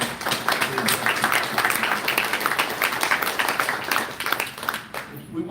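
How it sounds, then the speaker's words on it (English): A round of applause from a conference audience at a hemp products advocacy event, steady scattered clapping filling the room for several seconds and fading near the end. "we got to give this guy a round of applause"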